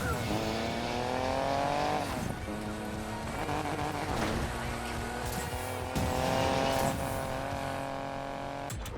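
Engine roar and revving from a car racing in the Need for Speed Payback video game, rising and falling as gears shift with brief tire noise, loud and continuous throughout.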